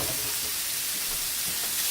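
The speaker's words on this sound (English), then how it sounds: "Hear that sizzle? That's what you're supposed to hear, especially when you're cooking meat this fast." Pieces of flank steak sizzle in a hot pan, a continuous bright frying hiss with soft crackles that stays close and even from start to finish, with no talking.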